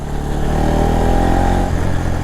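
A motorcycle ridden along a hilly road near Baghmara, its engine humming loud and close with a steady mid-range drone, then easing off as the throttle drops.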